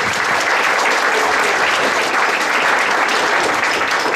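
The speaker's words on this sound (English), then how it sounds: "Could everyone please give a round of applause?" Steady, dense applause from a festival audience at the close of a vegan nutrition and wellbeing panel, loud and sustained throughout with no voices over it.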